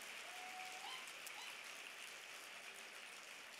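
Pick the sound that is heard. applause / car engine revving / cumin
applause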